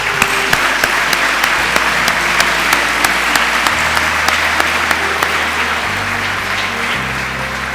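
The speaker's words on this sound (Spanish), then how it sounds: "Un aplauso fuerte para ellos," Loud, steady applause from a church congregation, many hands clapping continuously, with low sustained instrumental tones shifting underneath.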